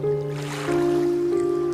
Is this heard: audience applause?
no